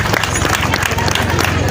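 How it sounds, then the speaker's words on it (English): Audience clapping for a newly elected district leader at a public gathering in Moyo, a dense, steady wash of applause filling the whole moment, with crowd noise throughout and no clear voice standing out. "Let us clap for him."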